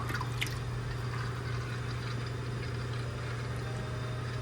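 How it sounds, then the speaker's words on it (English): CVT transmission fluid drains from the drain plug of a 2015 Subaru Forester, a steady soft trickle and patter over a constant low hum, close and unbroken, with no voices. "I'm gonna get onto the drain plug. And drain this fluid out."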